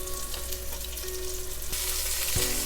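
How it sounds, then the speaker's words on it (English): A batch of chicken pieces sears in hot oil in a pan for a Persian and Assyrian chicken curry, giving a steady, dense sizzle and crackle close by, with a brief clink of a utensil near the end. "Add the next batch and let them sear just like that first batch did."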